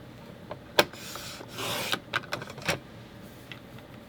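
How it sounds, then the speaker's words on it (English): Paper being cut into 2 3/4 inch double-sided squares for a Christmas scrapbook layout, heard as a few short, close rasping snips and a longer sliding cut, fairly quiet with no talking. "Let's cut some of these 2 3/4 inch squares."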